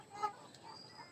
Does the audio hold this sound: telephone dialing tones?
no